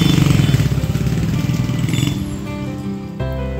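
Auto rickshaw ride in Kankhal near Haridwar, with a steady, close engine drone and rattling cabin, the motor rumble easing slightly near the end.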